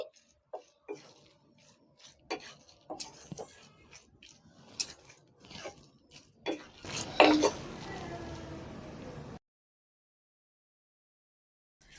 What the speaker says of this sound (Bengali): ভালো করে একটু মিশিয়ে নিচ্ছি